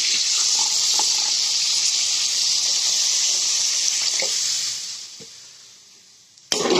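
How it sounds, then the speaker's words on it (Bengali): Water is poured into a pot of pigeon meat and potato curry as a steady, loud gushing stream that tapers off near the end and is followed by a sharp clunk. "এখন ঝোলের যে পানিটা সেটা দিয়ে নিচ্ছি"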